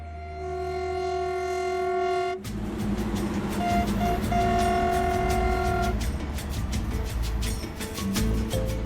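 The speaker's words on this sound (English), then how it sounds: "The spectacular Saldanha steel train. Nearly 400 wagons loaded with iron ore and manganese." Saldanha iron ore and manganese freight train of nearly 400 wagons, its horn sounding a long steady note before the loud rumble and clatter of the train takes over, with further horn blasts over the continuous roar.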